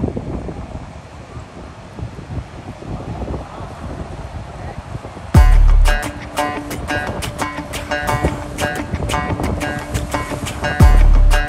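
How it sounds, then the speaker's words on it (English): Strong wind at a beach in Brazil where paragliding takes place, a steady roar of gusts buffeting the microphone, with loud rattling flaps and bumps starting midway. "There's that much wind, he's flying backwards."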